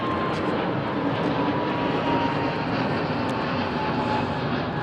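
A Magma Boeing 747-400 climbs out overhead from London Heathrow, its engines a steady, broad roar that holds at full strength throughout without fading.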